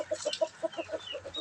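A chicken clucks in a steady run of short, evenly spaced notes, close and moderately loud, with faint background noise.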